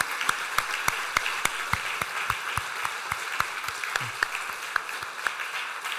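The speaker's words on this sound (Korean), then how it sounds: "우리 큰 박수로 축하하도록 하겠습니다" Church congregation applauds after three elders are ordained at a Korean Presbyterian worship service, steady sustained clapping from many people with sharp individual claps standing out close by.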